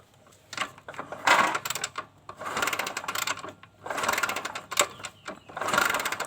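A Kawasaki Kaze motorcycle with lost ignition spark is kick-started: four rough, mechanical cranking bursts with brief pauses between, close by, with no engine catching.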